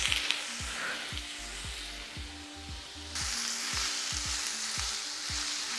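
Tofu frying in oil in a pan for pad thai noodles, a quiet steady sizzle that grows brighter partway through, with faint low rhythmic tones beneath and no voices.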